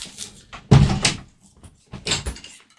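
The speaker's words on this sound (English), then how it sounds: "I'm closing the door on you." An indoor door is pushed shut with a solid thud, followed moments later by a second softer knock, close by and with no talk over it.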